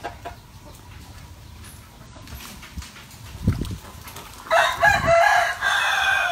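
A fighting rooster crows nearby in a rural Mekong Delta farmyard, one strained, loud call rising toward the end, with scattered clucks and background noise before it.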